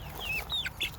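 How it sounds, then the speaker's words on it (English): Rooster clucking in short bursts while being chased around a backyard chicken coop; fairly faint, with a few quick rising chirps and no talk. "Nothing like being able to record a video Of a chicken chase. and grab a rooster all at the same time."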